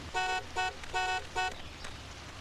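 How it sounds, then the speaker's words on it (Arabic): Car horn honking in four short beeps with brief gaps, on a street, loud and close with traffic noise underneath. "زمر له يا حسن"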